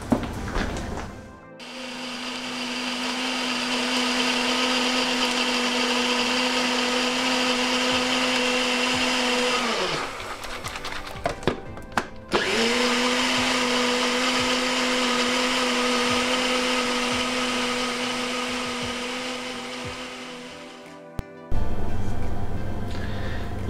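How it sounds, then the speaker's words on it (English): A jug blender whirs loudly and steadily while blending oil-free homemade vegan ranch dressing, running about ten seconds, pausing briefly with clatter, then running again for another stretch before stopping. "So you can do this in your jug blender or your NutriBullet."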